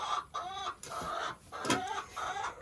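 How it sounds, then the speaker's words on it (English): A rooster clucks close by in a series of short, clear bursts with brief pauses between them, standing out plainly with no voices over it. "And this is a beautiful rooster here."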